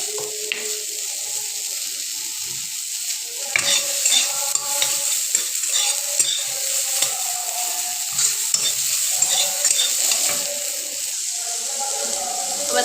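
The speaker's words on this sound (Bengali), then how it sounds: "বন্ধুরা, কড়াইটা গরম হয়ে গেছে, এবারে পেঁয়াজগুলো দিয়ে দেবো কড়াইতে।" Onions hitting a hot wok, then a soft continuous sizzle with scraping stirs and light clinks of a spatula, close and moderately loud, with faint watery hiss in the background.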